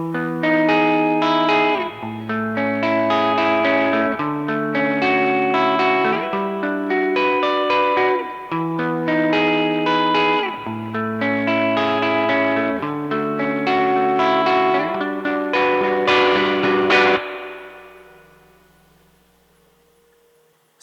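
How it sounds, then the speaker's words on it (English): Electric guitar DI signal reamped through an HX Stomp into tube amps and outboard gear plays a steady, rhythmic chord riff with a saturated amp tone and some reverb, then a final ringing chord that fades out. "what you're hearing there is the sound of my DI signal running through the HX Stomp to"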